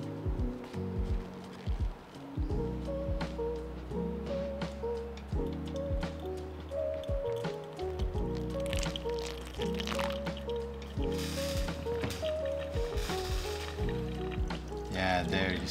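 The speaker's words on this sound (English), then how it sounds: "So we're gonna pre-wet the paper." Water is poured over a paper filter in a Chemex coffee maker to pre-wet it, trickling and dripping steadily over a low, humming background.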